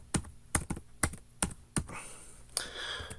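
Keys clatter on a computer keyboard while someone writes database code, with crisp, close clicks landing in short bursts separated by brief pauses, and no voices.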